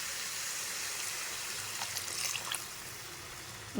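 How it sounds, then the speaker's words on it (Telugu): Water poured into a pan of ridge gourd and chana dal curry, a steady soft stream of liquid running throughout, with a brief louder splash at the very end. "వాటర్ పోసేసి"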